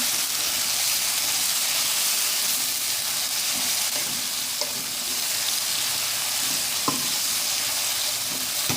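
Chopped tomato and green chillies fry with golden-brown onions, a continuous dense sizzle with occasional light spoon taps and stirring, no talking.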